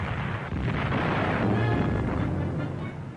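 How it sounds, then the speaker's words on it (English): Naval guns roar and 15-inch shells crash in archival WWII film of Royal Navy ships firing on the French fleet at Mers El Kebir, 1940, a dense sustained rumbling barrage with no quiet gaps. "The roar of naval guns is followed by the crashing explosion of 15-inch shells."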